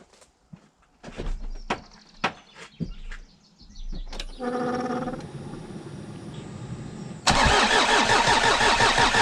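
A Jeep Cherokee engine cranks with a run of quick starter clicks and whirs before catching, then settles into a steady, loud mid-pitched idle that swells louder near the end, heard up close with no talk.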